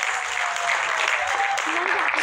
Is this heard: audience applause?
yes